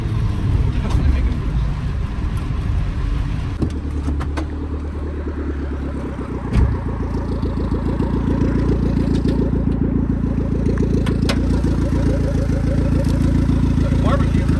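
A turbocharged 1995 Honda Del Sol Si engine fitted with a wastegate runs close by, a rough rumbling idle that revs and settles, with a sharp pop partway through and voices talking over it.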